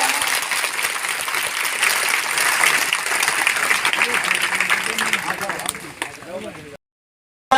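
Children at a school memorial ceremony in India clap loudly together to welcome guests, a dense burst of applause under a voice before cutting to silence.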